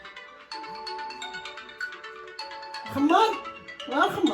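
A mobile phone ringtone plays in a steady melodic pattern in a room, followed by a voice calling out over it near the end.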